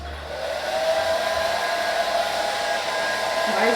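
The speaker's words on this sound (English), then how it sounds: "I guess you take the blow dryer." A blow dryer runs steadily at close range, drying hair during a wig install, with a constant whooshing motor hum and no pauses throughout.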